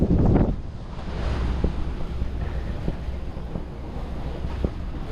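Strong wind gusts roar across a sailboat under headsail at sea, mixed with the steady wash of waves. The rush of wind stays constant throughout, with no voices.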